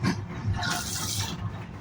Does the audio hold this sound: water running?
yes